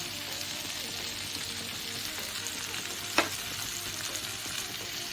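Ivy gourd fry with grated coconut sizzling in a pan while being stirred, a steady hiss of frying with one sharp scrape of the spoon partway through, no voices.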